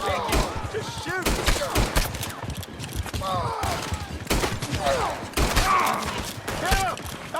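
Gunfire in Red Dead Redemption 2 comes as several sharp shots scattered across a tense scene, mixed with shouting voices.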